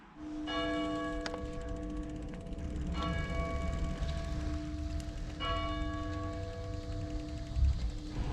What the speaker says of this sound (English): And the church bells are ringing.